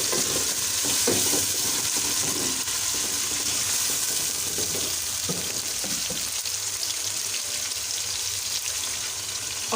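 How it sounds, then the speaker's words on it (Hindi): Green chillies sizzle steadily in a hot pan with tomato while a utensil stirs and scrapes through them, a continuous loud frying hiss with scattered knocks and no talk. "इसके बाद हरी मिर्च डाल देंगे और इस तरह से हम इनको मिक्स कर लेंगे।"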